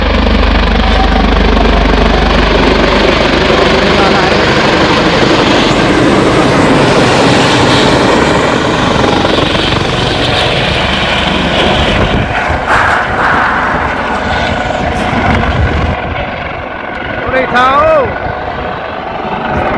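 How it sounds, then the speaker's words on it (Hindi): The Chief Minister's helicopter arrives at an outdoor rally in Deghat, its loud, steady rotor and engine roar filling the scene while people talk over it. "हवाई जहाज।"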